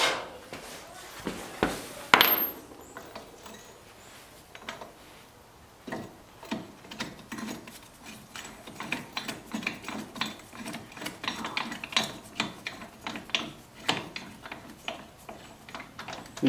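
A socket ratchet wrench works on the front brakes of a 2005-2010 Jeep Grand Cherokee WK, producing a steady run of close, fairly faint clicks after an initial clatter, continuing for most of the stretch.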